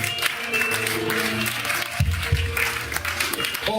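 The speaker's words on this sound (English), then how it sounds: "Give the Lord a clap." A church congregation claps together during a lively prayer service, a steady burst of hands over sustained musical tones, loud and close, with no voices audible.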